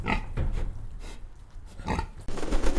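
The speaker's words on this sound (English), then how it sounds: "Pig." Pig grunting in bursts, low rough snorts and grunts repeated several times at close range, with brief pauses between them.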